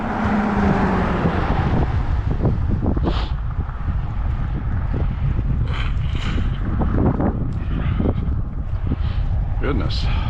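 Strong wind buffets the microphone outdoors near gas pumps, a steady broadband roar with gusty swells throughout, while a person talks intermittently over it.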